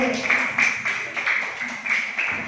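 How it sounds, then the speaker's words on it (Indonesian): A classroom group applauds group A with rhythmic, repeated clapping that pulses steadily at moderate loudness. No talk rises above the claps. "Beri tepuk tangan untuk kelompok A."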